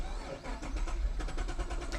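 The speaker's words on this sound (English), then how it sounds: "See, it's taking a while to start." A 2010 Chevrolet Camaro engine with a lean-running fault and rough idle cranks with a rapid rhythmic churning, labouring for a couple of seconds as it struggles to catch and start.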